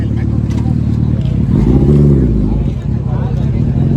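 Modified superbike at a Sunday ride gathering, its engine revving hard nearby with a rising and falling pitch, while a crowd chatters in the background.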